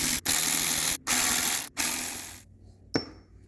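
A ratchet loosening small 1/4 inch bolts on an alternator, rapid close clicking in three bursts with brief pauses, then a sharp metallic clink and quiet.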